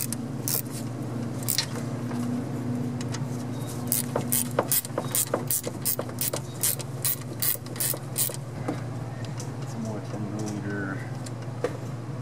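A ratchet tightens bolts on the lower alternator bracket of a 6.2/6.5L GM diesel in a squarebody K10 Suburban, giving bursts of sharp, rapid clicks over an idling-engine hum, then a few scattered clicks and shop sounds.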